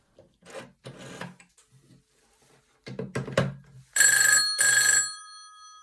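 A green Western Electric 500 type telephone, made in the 1980s by Northern Telecom for Ireland, rings its bell in two loud, close bursts following a stretch of quiet handling and rubbing noises.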